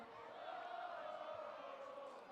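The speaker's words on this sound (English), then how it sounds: "Good crowds, a little bit of noise being made." Crowd noise from the student section at a Spotswood high school football game, a steady, broad roar of many voices held at an even level for a couple of seconds.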